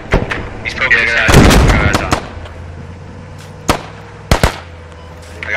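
Gunfire in the video game Squad, a full infantry match: a dense burst of rifle shots with a heavy blast early on, then a few isolated sharp cracks spaced apart, loud and close.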